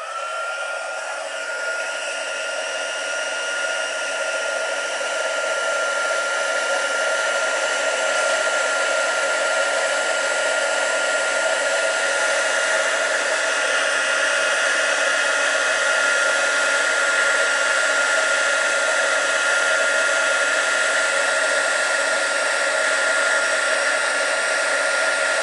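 A heat tool blows a continuous steady whirring hiss while melting silver embossing powder on a card, loud and unbroken throughout with no talk.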